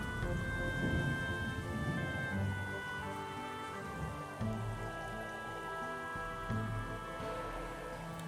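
Steady rain falls in a scene from the video game Trails in the Sky the 3rd, a soft continuous patter with low rumbles and a faint musical backdrop, no voices.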